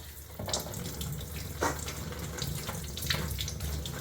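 Tap water runs steadily over a crab being washed in a sink, a continuous splashing hiss with small surges as the shell is turned under the stream.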